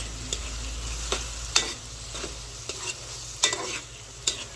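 Meat and hotdog pieces sautéing in a pan for a birthday meal, a steady sizzle broken by regular scrapes and clacks of a spoon stirring against the pan, close and fairly loud with no talking.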